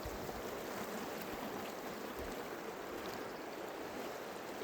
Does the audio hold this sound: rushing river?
yes